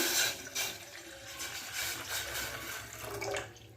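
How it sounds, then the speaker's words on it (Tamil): Cool water splashes and gurgles steadily into a container, a continuous close-up pouring sound with small fluctuations throughout. "அந்த தண்ணியை வந்து நான் இதில் ஊற்றிக்கிறேன்"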